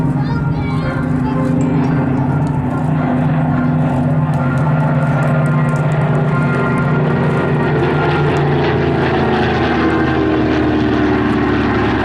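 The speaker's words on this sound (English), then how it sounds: "We'll see the Dakota flanked by the Hurricane and the Spitfire in our true memorial formation" Propeller aircraft pass overhead at an airshow: a Dakota flanked by a Merlin-engined Hurricane and a Spitfire in memorial formation, their loud droning engines rumbling continuously and building as they fly past, with voices faintly nearby.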